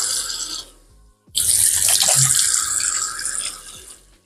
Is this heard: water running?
yes